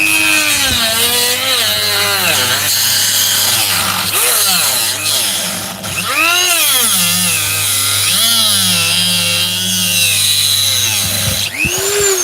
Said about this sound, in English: Anyway, Dremel it off.